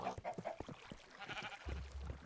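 A sheep in the Minecraft video game bleats several times in short wavering calls, close and clear, followed by a low hum at the end.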